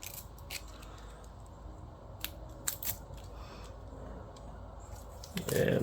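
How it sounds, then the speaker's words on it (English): A razor blade trims the edge of guitar fret wire on a Harley Benton DC-600 VI, giving several short, close scraping snips spread through the stretch and a louder rasp at the end. "I'm going to take my razor blade and find the edge of that fret and just kind of trim down"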